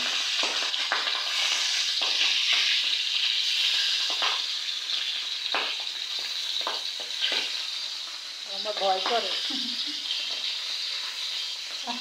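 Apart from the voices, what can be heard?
fish frying in oil in a wok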